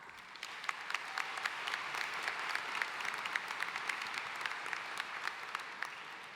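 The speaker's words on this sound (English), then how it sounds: "Please give our special guest a round of applause." Applause from a graduation ceremony audience at Ocean Lakes High School, a steady patter of many hands clapping together, fairly distant and even throughout, with no talking over it.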